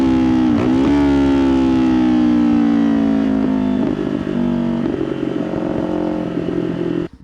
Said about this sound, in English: The crackles when you're downshifting.